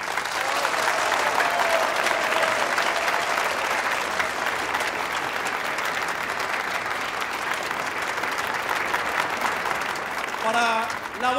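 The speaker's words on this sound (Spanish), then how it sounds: "para quien les pido un fuerte aplauso." Sustained audience applause at a town's 200th-anniversary municipal celebration in Villafuerte, a dense, even roar of many hands lasting about ten seconds, with a voice starting to speak over it at the end.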